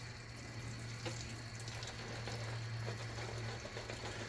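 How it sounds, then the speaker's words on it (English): Water from a tap runs steadily onto a pasty shaving brush, a continuous hiss and splash at close range with no talking and a low hum underneath. "let's rejuvenate this brush with some water"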